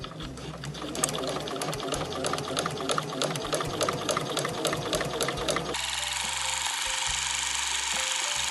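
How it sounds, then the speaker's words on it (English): A sewing machine stitching along the edge of small fabric scraps with a quarter-inch foot, a fast, even mechanical chatter up close that stops partway, giving way to a quieter hum. "I'm going to sew right on the edge, about 1/8 of an inch around the edge"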